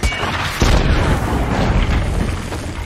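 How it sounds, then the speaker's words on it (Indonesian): Explosions in a scene from the action film 13 Hours (2016): a heavy, close boom followed by a sustained roaring rumble. "Ledakan demi ledakan membuat situasi kian mencekam."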